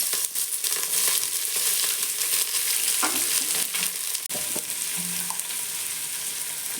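Sliced onions sizzle in hot oil with cardamom, cloves and fennel seeds for crab biryani, a loud steady frying hiss with occasional stirring scrapes and pops, no voices.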